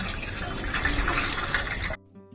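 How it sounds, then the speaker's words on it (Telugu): Close, steady splashing of water poured onto garden plants in a home garden, cutting off abruptly near the end and leaving a quiet hum. "టమాటాలు కోసా నీళ్ళు పోస్తా."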